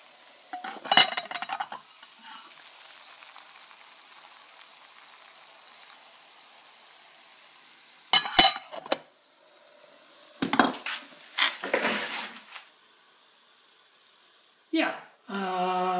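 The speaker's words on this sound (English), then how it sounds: "the stove fits inside of the fuel reservoir once you get down and the cap goes on" Metal Cub alcohol stove packed into its fuel reservoir and capped, with several bursts of sharp metallic clinks and scrapes spread out, close up, between quiet stretches and speech.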